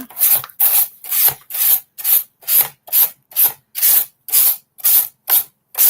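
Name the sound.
sanding a wooden backboard piece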